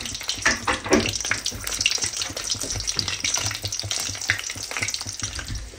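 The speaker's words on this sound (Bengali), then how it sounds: "এখানে এবার কাবাবগুলো ভাজি" Kebabs frying in oil make a continuous bubbling, spattering sizzle, loud and close, with uneven bursts of crackle throughout and no talking.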